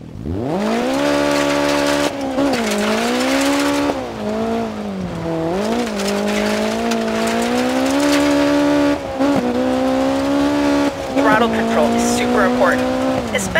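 A rear-wheel-drive rally car in the DiRT 4 video game revs and accelerates hard, its engine note climbing and dipping through gear changes over several seconds, with brief tire squeals and a voice talking over it.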